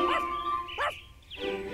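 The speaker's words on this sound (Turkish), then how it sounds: "Bakın, köpek havlıyor." A dog, in a children's cartoon, gives two or three short, high yapping barks in close succession, fairly clear, with a faint background tone.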